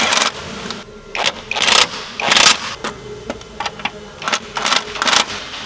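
Ratchet tightening bolts while fitting coilovers to a Lexus IS200, a close series of rapid clicking bursts with scrapes and metallic handling noises between them.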